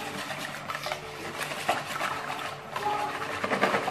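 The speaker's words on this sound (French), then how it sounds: "Ensuite, je vais ajouter mon beurre fondu et je mélange." Cannelé batter being whisked in a bowl after melted butter goes in, a continuous scraping, rhythmic stir with light metallic clinks, close and steady throughout.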